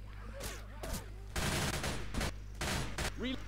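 Bursts of gunfire in the zombie shooter Left 4 Dead 2 crack out in several short volleys separated by brief pauses, with a voice speaking between them.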